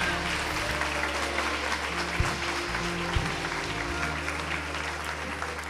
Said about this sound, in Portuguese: E se vai aplaudir, não economiza não.